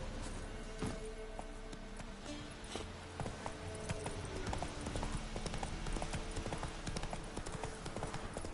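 Hooves clip-clop steadily from a horse in the Witcher 3 video game, a brisk repeating rhythm of close, clear hoof strikes over faint background game ambience.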